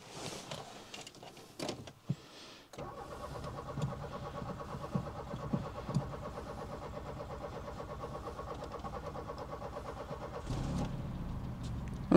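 A car engine cranks and starts up after a jump starter booster has been connected, then settles into a steady idle, preceded by a few clicks and clunks of handling.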